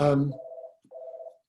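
Telephone tones sound loud and close: a short burst, then two steady electronic beeps separated by a brief gap, with no talking.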